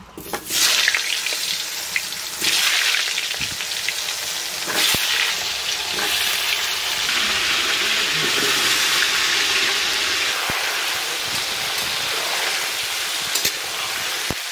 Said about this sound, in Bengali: এখন আলুটা ভাজা হবে, এইবার আর আলু আর পেঁপে দিয়ে দিচ্ছি।